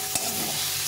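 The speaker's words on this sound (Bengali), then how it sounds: "এইভাবে করে এখন ভালো করে ভেজে নিতে হবে" Young radish greens frying in a pan, a brief close sizzle with a couple of quick spatula scrapes, no talking.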